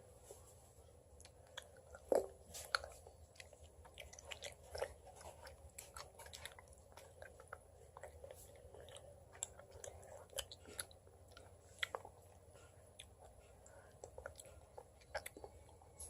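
Haribo gummy bears being chewed close to the mic, a soft, steady run of sticky, squishy mastication with scattered small bites and mouth clicks over a quiet background.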